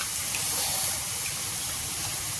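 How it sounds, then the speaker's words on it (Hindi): Water gushes steadily as spice bowls are rinsed out into a kadai of kundru sabzi on a slowed gas flame, a continuous close splashing pour with no talk. "ये सारे जो मसालों के कटोरे हैं उनको भी हम धो लेंगे, वेस्ट नहीं करेंगे जरा सा भी मसाला अपना।"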